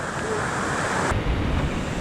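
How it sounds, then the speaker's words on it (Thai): Heavy rain pours steadily at a mountain camp on Doi Mamuang Sam Muen in Thailand, a dense, continuous hiss close to the microphone with no voices over it. "ตอนนี้นะครับคือฝนตกหนักมาก ตกมาแบบ เนี่ยจะครึ่งชั่วโมงแล้วยังไม่หยุดเลยนะครับ"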